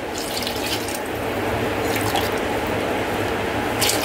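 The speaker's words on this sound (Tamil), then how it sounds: "மீதி 2 டம்ளர் தண்ணி ஊத்துறோம்" Hot water pours into rice in a pressure cooker while mutton biryani is made, a continuous close splashing stream that holds steady throughout with no talking.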